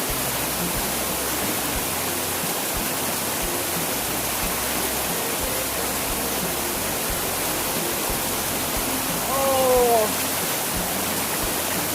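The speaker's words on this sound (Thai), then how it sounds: "น้ำตกช่วยนวดให้ สุดยอดเลยอ่ะ เย็นสบาย" Steady broadband rush of a waterfall in Phang Nga, Thailand fills the whole clip, with a short burst of voice near the end.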